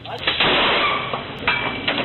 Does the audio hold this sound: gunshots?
yes